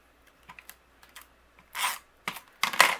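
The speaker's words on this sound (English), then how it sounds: "I'm going to use my tape runner to adhere this." Tape runner pressed and drawn across paper while a Halloween card is assembled: light taps and clicks give way to three louder rasping strokes near the end, close and dry, with no talk.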